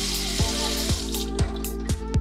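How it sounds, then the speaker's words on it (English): Steady flow of a new kitchen faucet filling a sink in an apartment, a continuous near splashing hiss with a few soft clunks recurring about every half second. "You have a new faucet."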